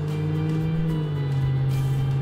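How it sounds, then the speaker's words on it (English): Engine of a car in a racing video game, heard as a steady droning tone with a strong low pitch that shifts slightly near the end as it revs, fairly loud and continuous. "Let me know how you can hear the engine sounds and such."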